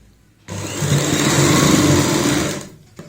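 A sewing machine stitches a single continuous foot-width seam across pleats on a baby frock, one loud, close, steady whirring run of about two seconds starting and stopping abruptly.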